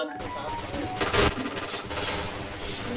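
Gunfire in the video game Point Blank, a loud burst of rapid shots peaking midway, with game effects and a faint voice nearby.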